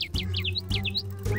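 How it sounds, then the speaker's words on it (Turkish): Quick, high bird chirps in a cartoon repeat in short bursts over a low, steady hum, close and fairly clear. "Kuşlar birden ortaya çıktı ve kafamızın üstünde uçuyorlar."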